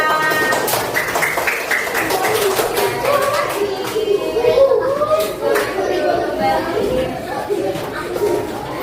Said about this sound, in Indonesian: Beri tepuk tangan untuk kelompok merah.